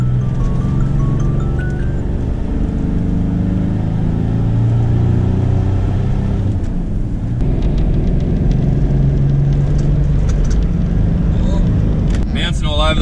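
A Toyota Landcruiser 105 series with a turbocharged 1HZ diesel engine climbs a steep hill, its loud, steady low drone straining continuously and shifting pitch slightly as it pulls, heard from inside the cab.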